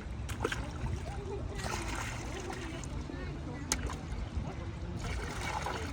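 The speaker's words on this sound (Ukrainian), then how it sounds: "Все, давай, набираємо басейн воду." Water splashes and trickles steadily into an inflatable pool, a continuous watery rush with voices talking over it.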